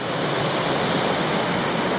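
Adams Falls in Tasmania pours at reasonably low flow, giving a steady, loud, broadband rush of falling water with no gaps or voices.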